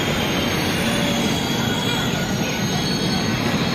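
Train arriving at Kadapa railway station, a loud continuous rumble of rolling rail cars with high-pitched wheel squeal and faint clickety-clack, close by with no pauses.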